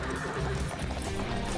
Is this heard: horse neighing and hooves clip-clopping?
yes